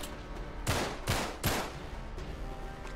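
Three sharp gunshots from the video game Uncharted 3: Drake's Deception ring out in quick succession, each a loud broadband crack with a brief decay, followed by quieter ambient game noise.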